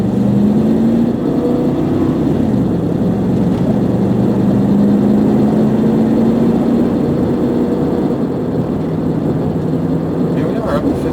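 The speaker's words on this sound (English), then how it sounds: "Here we are, up to 55 miles an hour, no problem." Cabin engine drone of a 1996 Ford Explorer XLT all-wheel drive accelerating to 55 mph, a steady loud hum with rising engine tone and road noise, while someone talks over it.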